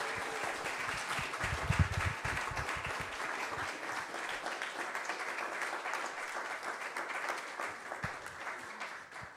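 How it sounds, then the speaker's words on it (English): Steady audience applause fills a concert hall, a dense even wash of many hands clapping that carries on throughout with no voices standing out. "Can we give them all a big round of applause?"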